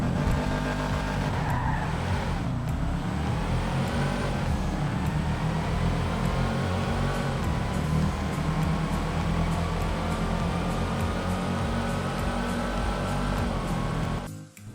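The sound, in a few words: Sultan RS car racing with a race transmission in video game GTA 5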